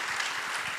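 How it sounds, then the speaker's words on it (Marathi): Steady, faint applause from an audience at a stage tribute to writer P. L. Deshpande, a soft, even wash of many hands heard from a distance. "अतुलसाठी आणि या सगळ्या पुलंसाठी एकदा जोरदार टाळ्या झाल्या पाहिजेत"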